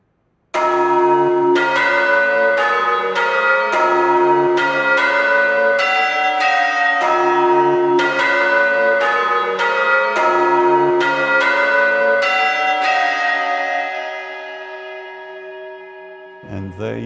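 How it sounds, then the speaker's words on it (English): Big Ben's great bell at the Palace of Westminster striking its last midday chime before repairs, loud repeated resonant bongs with long ringing decay and reverberation, the final strike fading out alone. "So we're going to let you listen to the entirety of this last midday"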